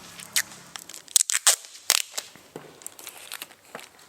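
Sharp, ripping bursts of adhesive tape being pulled and torn, several quick pulls close by with crinkly handling noises in between.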